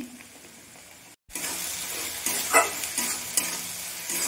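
Ginger and garlic are stirred and fried in a pan, a steady close sizzle with a brief break and then louder crackling, with spatula scrapes and occasional bursts as the mixture is moved around.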